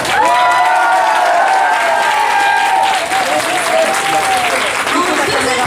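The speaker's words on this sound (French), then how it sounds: "Je vous demande d'applaudir bien fort Yao." An audience gives loud, sustained applause for a winner at a school writing contest awards announcement, dense clapping with a little cheering running steadily throughout.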